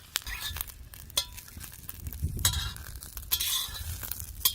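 Green chillies roasting in a hot pan until blistered and soft, with scattered close clinks and scrapes of a stirring utensil against the metal over a low background sizzle, no talking.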